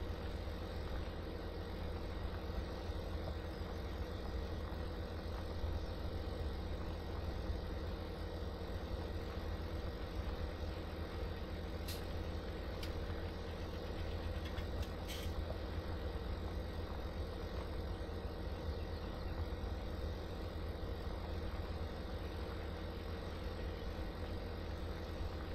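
Tractor engine in Farming Simulator 2017 on the Goldcrest Valley map, rumbling steadily at idle for the whole stretch, low and constant, with a couple of faint high clicks partway through and no talking.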